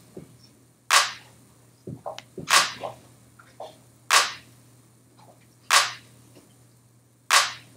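Slow trap drum beat programmed at 75 bpm with snare-like cracks landing on beats two and four, sharp and evenly spaced, with a few softer hits in between over a low steady hum.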